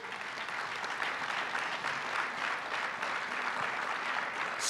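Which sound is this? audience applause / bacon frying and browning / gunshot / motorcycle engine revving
audience applause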